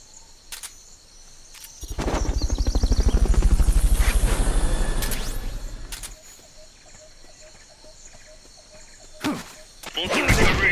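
A helicopter in the video game Metal Gear Solid: Peace Walker sweeps in with a loud rhythmic rotor chop that swells and fades over several seconds, framed by short clicks and game effects.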